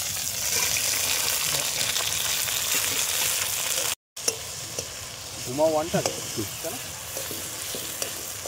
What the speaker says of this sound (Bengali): আমরা কেটে রাখা টমেটোর কুচিগুলো দিয়ে দেবো এর ভিতরে।